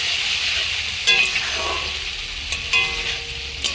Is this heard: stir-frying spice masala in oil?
yes